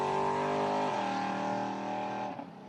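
A 5-litre VB Commodore race car with an automatic gearbox drives past at a sprint event, its V8 engine a loud steady roar that drops pitch with an upshift partway through, then fades slightly as it moves away.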